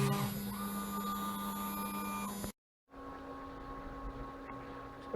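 A CNC router with a 1/8 inch end mill cuts a logo into wood: a steady, loud machine whine with high tonal hum runs continuously, cuts out briefly to silence, then resumes with a slightly lower, steady drone.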